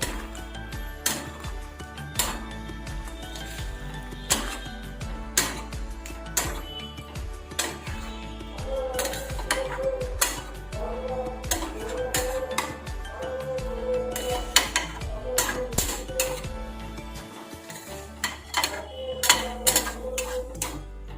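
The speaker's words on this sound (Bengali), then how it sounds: "পনির দিয়ে এবার এটাকে একটুখানি নাড়িয়ে নিতে হবে পনিরগুলোর সাথে" A spoon or spatula stirring palak paneer with paneer cubes in a pan, scraping and clinking against the metal in irregular, fairly quiet bursts throughout.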